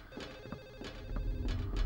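An in-game telephone rings in the video game Silent Hill 4: The Room, repeated bell-like trills at a moderate distance over a low rumbling background.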